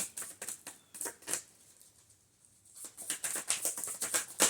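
Tarot cards are shuffled in quick, crisp bursts of papery flicks and riffles, close to the ear, with a short quiet pause midway before the rapid shuffling resumes.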